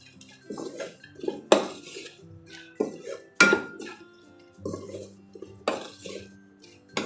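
A spoon knocks and scrapes against a pan while grated jaggery is stirred into a tamarind okra curry, about half a dozen sharp clanks spaced over steady mixing, close and without talk.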